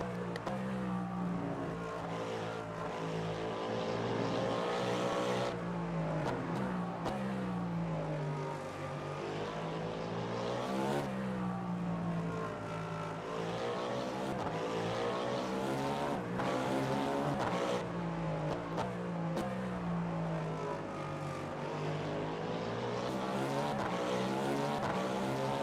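An LMP1 prototype race car in the Le Mans Ultimate racing sim at Interlagos during a 6-hour race, its engine droning steadily and loudly throughout with rising and falling pitch sweeps as it accelerates and shifts, with no talk.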